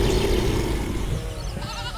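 A goat bleats in an animated Hindi folk tale, a wavering cry sounding over a steady bed of background noise and music for about two seconds, with no speech.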